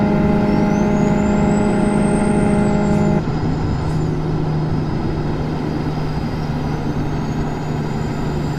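A truck rolls into a tunnel, a steady engine drone with tonal whine that shifts abruptly partway through into a broader, echoing road roar, loud and continuous with no talk.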